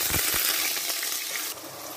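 Onion paste made from four or five large blended onions sizzles as it hits hot oil in a pan, a bright steady hiss with a couple of soft thuds near the start.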